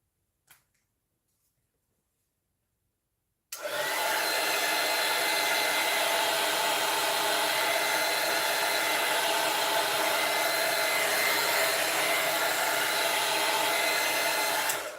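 A hair dryer switches on after a few quiet seconds and blows steadily and loudly over a craft piece for the rest of the time, a constant close whooshing roar.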